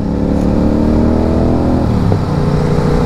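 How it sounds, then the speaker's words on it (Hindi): A motorcycle engine revs close and loud, its pitch rising and dipping in a booming, continuous roar with no talking. "अपने पास ऐसी बाइक होगी जो ऐसी बूम कर रही होगी"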